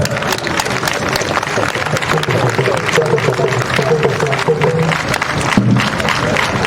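Congress delegates rise in a standing ovation, a large hall full of steady, sustained clapping with crowd murmur mixed in, holding at an even level throughout.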